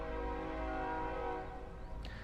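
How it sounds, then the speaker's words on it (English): A sustained, loud train horn blares with a rich chord of tones, fading slightly at the end. "and train horn, of course."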